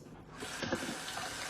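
Tap water running steadily over freshly boiled eggs in a sink to help loosen the shells, a continuous close hiss with faint splashes.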